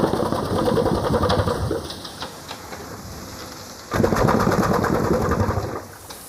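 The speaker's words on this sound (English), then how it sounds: "This remarkable contraption is an old steam engine." An old working steam engine with a vertical piston at Quarry Bank Mill chugs with steady mechanical clatter and hiss, loud for about two seconds, then quieter before surging again near four seconds.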